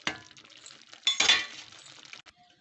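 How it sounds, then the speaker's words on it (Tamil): A metal lid set onto a cooking pot of semiya upma on a stove at medium heat gives a run of close metallic clinks and clatter, with one louder clanking burst midway and no talk. "ஒரு மூடி போட்டு"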